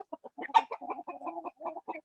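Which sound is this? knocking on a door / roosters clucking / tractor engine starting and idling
roosters clucking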